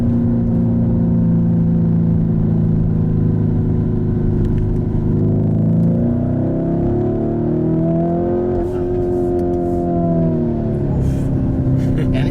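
Lamborghini Urus SUV engine heard from inside while driving, a steady low rumble that rises and falls in pitch as the car accelerates through the revs, constant and fairly loud with light road noise.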